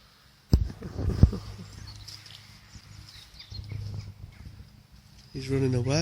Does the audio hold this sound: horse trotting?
yes